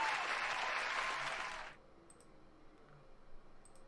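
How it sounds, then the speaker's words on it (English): Brief burst of applause from a small group during a podcast recording, clapping for under two seconds before stopping abruptly into near silence. "Maybe another round of applause real quick"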